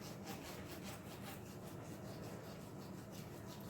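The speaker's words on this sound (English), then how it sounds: "But I'm going to separate all the ribs first." A knife saws back and forth through cooked ribs to separate them, a steady rapid rubbing and scraping rhythm that runs continuously, close but quiet, with no talk.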